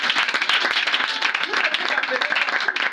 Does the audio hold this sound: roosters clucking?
no